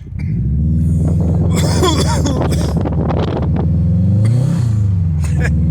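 A Subaru car engine with a slipping clutch drones loud and close, its steady harmonic hum swelling and climbing in pitch as it revs toward the end, with bursts of broadband cabin noise in the middle.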